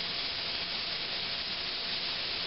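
Ground meat browning in a large-capacity pan for green chile enchiladas gives off a steady, even sizzle and hiss that stays constant and close throughout, with no voices.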